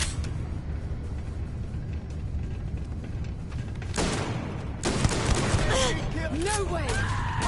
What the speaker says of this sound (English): What the hell are you firing at?